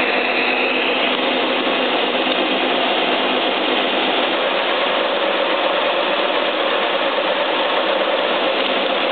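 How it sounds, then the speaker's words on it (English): An aluminium car wheel rim being rebored on a milling machine gives a steady, loud machining drone with a gritty cutting hiss, continuous and unbroken with no voices. "I have a car wheel on my milling machine table, and I rework or rebore bore of this rim."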